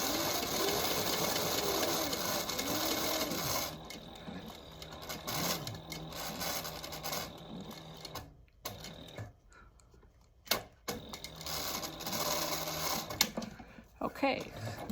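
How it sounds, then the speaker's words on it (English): Sewing machine stitching vinyl with back tacking, a steady close mechanical whirr in bursts that stops and restarts, with brief pauses between runs. "So all I'm doing is just making that stitch just like I would if I was putting a pocket there."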